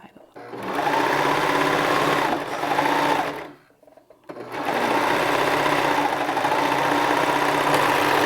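A sewing machine stitches clear elastic around a garment neckline in two long, steady runs of fast, even whirring, with a brief pause between them, loud and close.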